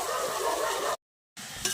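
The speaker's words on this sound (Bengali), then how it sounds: "এর মধ্যে আমি বাঁধাকপিটা দিয়ে দেবো" Cabbage dropped into a pan of frying tomatoes brings a steady close sizzle with stirring, broken by a brief silent gap before the frying resumes.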